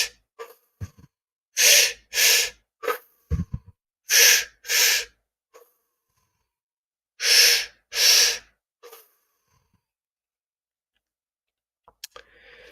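Deep, forceful breaths during a guided breathing exercise, drawn in and pushed out in quick pairs, three rounds of paired huffs close up with quiet pauses between and a few soft clicks.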